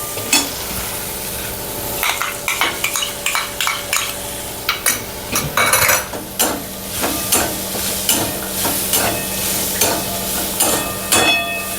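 Boiled, lightly crushed peas and garlic sauté in a pan for a Maharashtrian pithla, a steady sizzle under repeated clinks and scrapes of a spoon stirring against the metal, close and moderately loud, with no talking.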